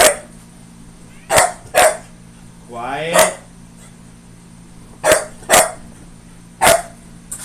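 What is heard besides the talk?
dog barking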